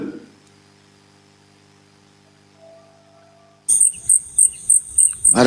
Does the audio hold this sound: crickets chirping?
yes